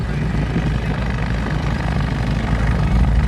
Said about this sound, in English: Very useful radial engines.